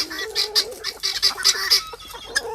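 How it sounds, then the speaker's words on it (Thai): Guinea fowl on a farm call in a rapid series of harsh, rhythmic cackling honks, loud and close, with no talking. "ไก่ตอกนี่จะเป็นสัตว์ที่มากบินนะครับ"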